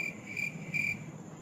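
Crickets chirp steadily in short repeating pulses, a thin high trill recurring about three times a second over a faint low background, with no voices.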